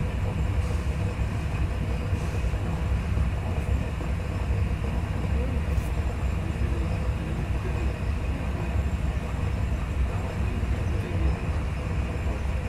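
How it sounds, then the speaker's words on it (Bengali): Slow-moving passenger train rolling toward Gandaria station, a steady low rumble heard from on board, continuous and fairly even with faint rattles. "তবে আমাদের ট্রেনের স্পিড প্রচুর স্লো"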